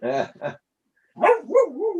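Several dogs bark and yip up close, two short barks followed after a pause by a longer whining, wavering bark.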